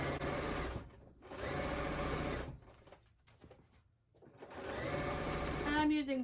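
A sewing machine stitching in the ditch on a baby quilt with white thread, running in three bursts of rapid steady whirring separated by pauses with faint handling sounds.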